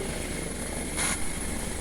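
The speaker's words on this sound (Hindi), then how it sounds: "ये है पवन हंस प्राइवेट हेलीकॉप्टर है" A Pawan Hans private helicopter drones steadily nearby at an Imphal heli service, a constant rotor and engine wash with a brief swell midway, heard alone without talk.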